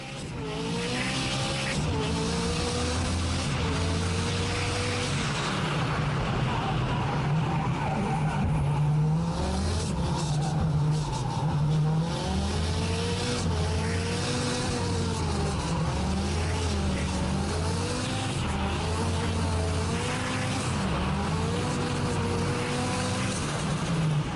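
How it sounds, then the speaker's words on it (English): Drift car making a competition run at Barbagallo Raceway in Perth during the Australian Drifting Grand Prix: a loud, continuous engine note that rises and falls with revs, and long tire squeals running beneath it from start to finish. "Let's jump on board with Bo Yates now to check out just how spot on that run was here at BARBAGALLO Raceway."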